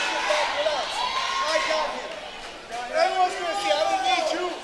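Wrestling crowd at a CCW Bash at the Brew show cheering for ERA, a steady roar of voices with rising whoops and chants, under a commentator's talk.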